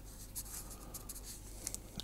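A pencil scratches and scribbles across paper while sketching trees and woodland, a faint, close, continuous light scratching with small taps, no voices.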